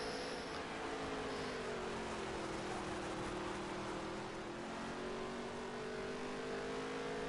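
Race cars lapping a track at night, heard as a loud, continuous engine drone that shifts slowly in pitch as the cars run at speed, with no talk over it.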